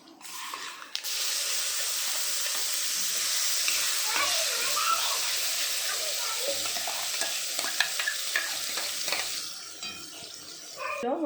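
Tomato chutney hits hot tempering oil and sizzles loudly and steadily for several seconds, with scraping stirs and a faint voice underneath.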